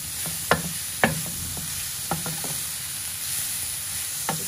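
Paneer cubes frying in a pan, a soft steady sizzle broken by several sharp clacks of a spoon stirring against the metal, close and clear with no talking.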